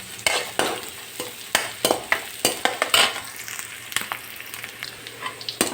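Garlic frying in a pan with onions while being stirred, for a spinach and lentil dish: a sizzling bed broken by repeated sharp scrapes and clinks of the spoon against the pan, close and irregular.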